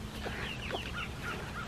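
Several chickens in a pasture cluck and murmur softly over a steady low background rumble, short overlapping calls at moderate distance.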